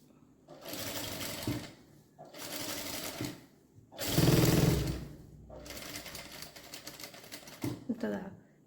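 An electric sewing machine runs a long stitch through fabric in four steady bursts of rapid mechanical whirring, separated by short pauses, close and clear.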